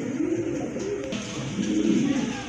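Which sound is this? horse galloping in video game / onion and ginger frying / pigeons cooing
pigeons cooing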